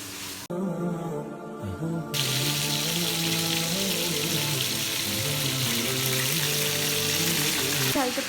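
Marinated food fries in a pan for iftar, a steady loud sizzle that runs throughout, with a brief clatter near the start and another at the end.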